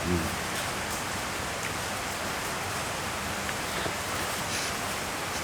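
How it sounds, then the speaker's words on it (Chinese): Steady rain falls throughout, a dense even hiss of drops on surfaces at constant loudness with no break. "下雨了"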